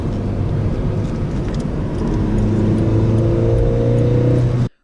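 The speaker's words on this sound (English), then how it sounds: "this car is actually very easy to rev match too." A 2018 VW Polo Vivo engine revs and holds steady, its droning harmonic tone rising slightly as it's blipped for a rev-matched downshift, loud and close inside the cabin with no talking, cutting off abruptly at the end.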